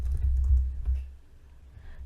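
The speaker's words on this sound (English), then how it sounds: "So let's say here I'm typing my email ID." Keys clack quickly on a computer keyboard as an email address is entered on a Windows PC, a close burst of soft taps that fades to quieter typing.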